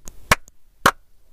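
A pair of crisp, close hand claps spaced about half a second apart, with a faint tap before them and quiet between, from a children's counting rhyme in a first-grade math class.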